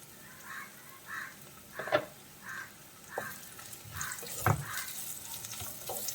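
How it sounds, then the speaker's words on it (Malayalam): Thin, long-sliced carrots and onion sautéing in a pan for vegetable noodles. A soft sizzle runs throughout, broken by regular stirring scrapes about every half second and a couple of louder clanks of the spoon. "നമ്മൾ കനം കുറച്ച് നീളത്തിൽ അരിഞ്ഞ് വെച്ചിരിക്കുന്ന ക്യാരറ്റ് അതിലേക്ക് ഇട്ട് കൊടുക്കാം."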